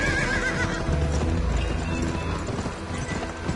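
Horse hooves clop steadily with a whinny early on, over a dense, busy background, in the video game Gun.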